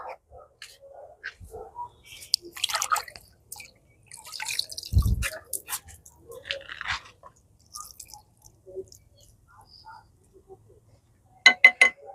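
Water is poured onto a potted plant, making scattered drips and small splashes amid soft handling noises, with a quick burst of louder drips near the end.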